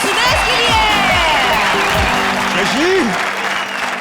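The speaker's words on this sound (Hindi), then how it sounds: "तालियां कृष्णा और सुदेश के लिए" Studio audience applauding on a Hindi TV comedy show as a comic duo is introduced, a loud, steady wash of clapping that carries through, with a host's voice and some music over it.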